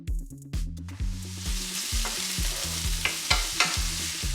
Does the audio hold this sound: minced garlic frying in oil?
yes